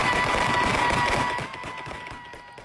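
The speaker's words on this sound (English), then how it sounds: "A massive barrage of gunfire into the air with no worries over where those bullets may come down" Massive celebratory gunfire shot into the air on New Year's in Detroit, a dense continuous crackle of many rapid overlapping bangs, loud and sustained, easing somewhat toward the end.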